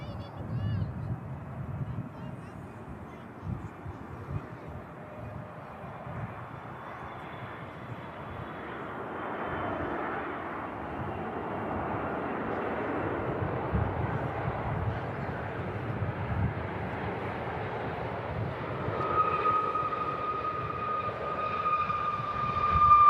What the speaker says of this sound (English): Huge G90 engines on the triple.